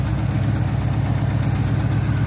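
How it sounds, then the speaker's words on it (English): A 6.4 Hemi V8 idles after a Sea Foam fuel treatment, giving a steady, close, continuous low rumble with a faint rhythmic knock and no voices. "As you see, that engine is not shaking like it was."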